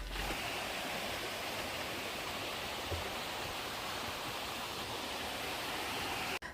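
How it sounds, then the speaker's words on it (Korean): Baeksa Waterfall pours over white rock beside Hyeontong temple in the Baeksasil valley, a steady, even rush of falling water with no voices. The sound cuts off abruptly at the end. "현통사 옆에는 바위가 있고 폭포가 있습니다"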